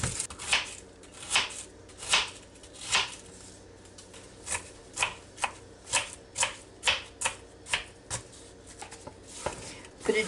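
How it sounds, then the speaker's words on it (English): A knife dices onions on a cutting board in a home kitchen, a brisk run of sharp, fairly regular chopping taps, close and moderately loud, over quiet room noise. "We'll dice up some onions right quick."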